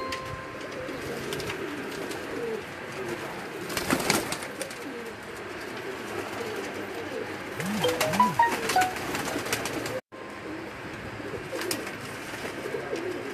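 Teddy high flyer breeder pigeons coo repeatedly in a loft, soft rolling calls from several birds close by, with scattered wing flutters and a brief cut near the end.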